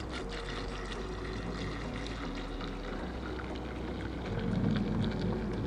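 Distilled water pours steadily into a container for homemade shampoo, a continuous close wash of splashing and trickling that swells slightly louder near the end, with no talking.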